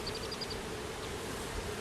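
Bees buzzing around an open beehive during an inspection, a faint, close, continuous hum with brief higher whines from individual insects passing by.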